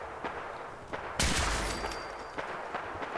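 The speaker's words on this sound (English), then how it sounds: "I'm gonna go towards the sound of gunfire." Gunfire in the Fallout 4 video game: a few faint distant shots, then one loud close blast with a lingering ringing tail, followed by more scattered quieter reports.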